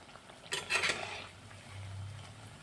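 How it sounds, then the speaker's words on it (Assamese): Aloo pakoras are flipped in hot oil, with a few close metallic scrapes and clinks of a utensil against the pan over a soft, quiet sizzle of frying. "এতিয়া মই পকৰাকেইটা ওলোটাই দিম।"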